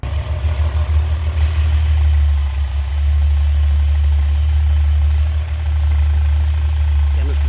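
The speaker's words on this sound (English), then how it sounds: "Let me pause this and warm up the engine." A Jeep Wrangler YJ engine warms up at idle, a steady low rumble with constant even vibration close to the microphone throughout, without interruption or change in pace.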